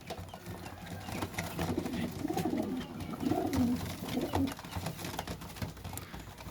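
Flying pigeons and young pigeons for sale in a loft in Faisalabad coo repeatedly, with soft, low, overlapping coos layered over faint background noise and a few small knocks.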